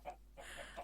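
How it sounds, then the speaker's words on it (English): Chickens clucking in the Minecraft video game, a few short, faint game clucks in quick succession over a brief moment with no talking. "There's just so many chickens."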